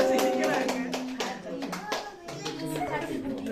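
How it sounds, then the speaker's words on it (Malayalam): Hands clapping at a child's fifth birthday party at home, several short bursts of claps mixed with children's and adults' voices talking close by. "കൈയടി കൈയടി കൈയടി."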